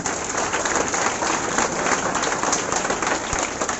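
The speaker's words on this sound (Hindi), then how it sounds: "इनके लिए जोरदार ताली लेनी चाहिए" Loud, dense applause from a crowd gathered to honour board exam toppers, many hands clapping continuously and close for several seconds with no speech over it.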